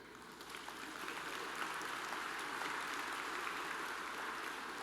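Applause from an audience at a charity gala event in New York, a steady wash of many hands clapping at a distance, fairly faint and unbroken.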